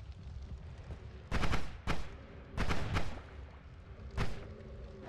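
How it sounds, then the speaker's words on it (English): Meaty explosions in the roguelike Noita, a series of sharp, loud broadband blasts arriving in uneven bursts, some closer together, over a low steady rumble of in-game background sound. "Oh, the explosions are so meaty."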